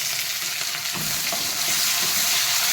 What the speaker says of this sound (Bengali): আমি এই তেলের ভিতরে রসুন দেবো